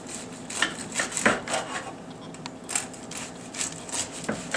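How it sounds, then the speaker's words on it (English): A knife slices through a loaf of bread for grilled cheese sandwiches, giving a run of crisp, scratchy sawing strokes and small clicks in an uneven rhythm, close by and with no talking. "I'm just going to get a few slices, and this is going to be the bread for grilled cheese sandwiches"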